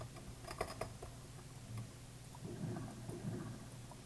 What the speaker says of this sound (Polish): Deszczyk pada.